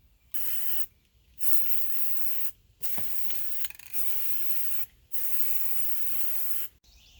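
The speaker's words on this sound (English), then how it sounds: "spray paint it with a rose gold spray paint" Rust-Oleum rose gold spray paint hisses from an aerosol can in four long, steady bursts separated by short pauses, close and fairly loud with no one talking.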